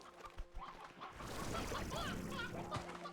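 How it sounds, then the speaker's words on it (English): Chickens in the video game Slime Rancher 2 cluck in a short, quiet flurry of clucks and squawks, a few sounds overlapping for a couple of seconds. "We'll just let the chickens kind of run around wild, right?"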